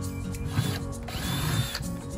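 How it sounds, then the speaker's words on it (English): A power drill bores holes in the bottoms of Lowe's plastic buckets for growing tomatoes, giving a close, steady mechanical whir with a grinding, ratcheting texture and slight surges as the bit bites into the plastic. "He is drilling holes in the bottom of these Lowe's buckets for Grandma"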